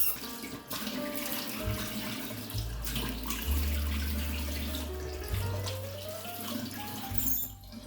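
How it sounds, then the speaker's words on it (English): A tap runs warm water into a sink for rinsing, a steady close rushing stream lasting the whole stretch, with low humming tones and small shifts in flow. "So you just want to turn on a little bit warm water."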